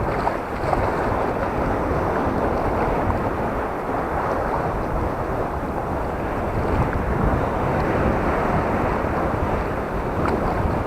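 Mediterranean sea waves and strong wind at Dalyan spit beach in Turkey, a loud continuous rushing roar of surf with heavy wind buffeting the microphone, no voices.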